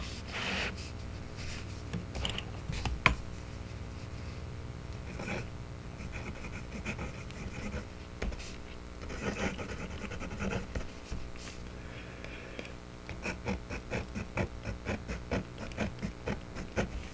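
A broad PalmerPens ground cursive italic fountain pen nib scratches across paper with a toothy feel, a close, quiet scritching that rises in short bursts of strokes throughout.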